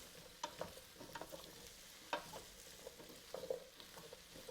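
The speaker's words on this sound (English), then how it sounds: "I'm going to stir it a little bit so that it's evenly divided over the pan" Diced carrots, onion and potato are stirred in a pan for hutspot, a traditional Dutch dish, with a quiet background sizzle and irregular scraping knocks of the spoon, close and soft.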